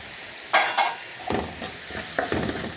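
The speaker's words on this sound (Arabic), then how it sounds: "وافضل اقلب بقى في الخلطه دي شويه" A utensil scrapes and knocks against a pan while a tomato and spice mixture is stirred, making a few distinct scraping strokes near the mic, with faint sizzling underneath and no talking.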